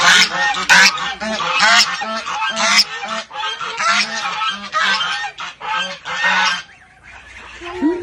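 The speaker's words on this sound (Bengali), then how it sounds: "হাঁস, এগুলোকে রাজহাঁস বলে।" Domestic geese honk loudly and repeatedly at close range, several birds calling over one another in a dense, uneven chorus that thins out near the end.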